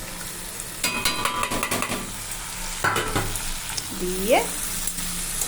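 Spinach stems fry in fish oil as a spatula stirs and scrapes the pan, clattering strokes over a constant sizzle, with a brief spoken word and a short voiced sound partway through.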